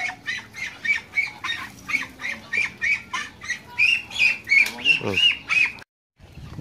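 A duck quacks repeatedly in a quick steady rhythm, fairly close and loud, with a brief silent gap near the end and faint murmuring underneath.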